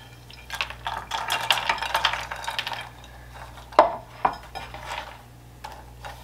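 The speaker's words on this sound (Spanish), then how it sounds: "Para que tengan una idea de cuántas son, se las voy a poner aquí en tazas." Toasted almonds tumble into cups in a kitchen while making rice atole, giving a run of small clinking, rattling pours followed by a few sharp isolated clinks of dish and cup, close and fairly quiet with no talk.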